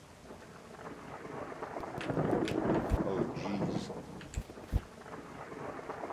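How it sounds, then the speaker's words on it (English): Knytt Stories thunderstorm with heavy rain: a steady rain hiss rises and swells midway, with a few sharp thunder cracks near the end, while a voice briefly exclaims over it. "The sky became dark and a heavy rain began to fall."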